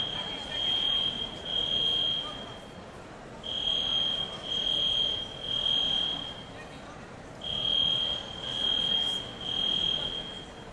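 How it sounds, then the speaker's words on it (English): A building fire alarm sounds in repeated steady electronic tone bursts, grouped in threes with short pauses between groups, under a quiet room background. "They will locate the source of the alarm there."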